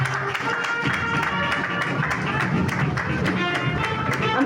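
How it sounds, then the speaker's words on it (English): Crowd applause at a trophy unveiling ceremony in Lagos for the 1xBet Cup: a continuous wash of clapping with a rhythmic pulse running through it, mixed with voices and crowd noise. "A round of applause, please."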